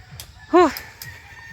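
A single short crow rings out from a nearby rooster where many chickens are kept, with soft background murmur before and after.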